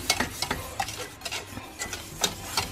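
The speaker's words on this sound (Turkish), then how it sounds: "O yüzden böyle pürüzsüz bir kıvam alana kadar bunu karıştırıyorum." A spoon stirs caramelized sugar and cream by hand in a pot, making a steady series of quick scraping, clicking strokes with a faint sizzle underneath, close and alone.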